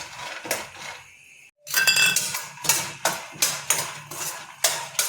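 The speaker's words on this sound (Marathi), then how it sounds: "आणखी थोडे आपल्याला भाजायचे आहेत शेंगदाणे" Peanuts dry-roasting in a pan, stirred in a steady rhythm of about eight sharp scraping, rattling strokes with a brief pause early on, heard close with no talking.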